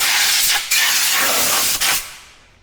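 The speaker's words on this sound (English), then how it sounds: "Also blowing out all the rust and grit everywhere." Compressed air blasts rust and grit off the brake hardware of a 2020 Ford F450, a loud, steady close-up hiss interrupted by two brief pauses before tapering off.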